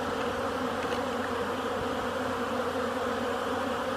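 Honey bees buzz at a hive as they come for water, a dense, continuous drone of many wings at close range, steady and loud with no pauses.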